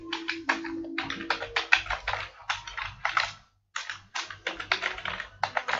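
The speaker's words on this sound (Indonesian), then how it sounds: "Kita ketikkan localhost" Rapid bursts of computer keyboard typing, close and crisp, with short pauses between clusters of keystrokes while a URL is entered in a web browser.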